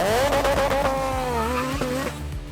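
A Toyota GT-Four rally car races with a loud, high-revving engine whine that shifts in pitch, broken by gear changes and tire skids, close and intense throughout.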